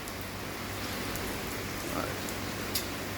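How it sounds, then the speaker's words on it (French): Heavy rain pours down outside a shop in Colmar, a dense steady hiss of downpour throughout with a brief spoken word near the end. "il pleut des cordes"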